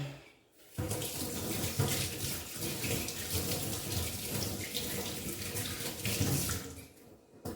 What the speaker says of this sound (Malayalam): അപ്പൊ നമുക്ക് ഇതൊന്ന് കഴുകി നോക്കാം